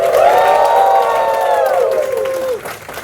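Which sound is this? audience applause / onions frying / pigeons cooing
audience applause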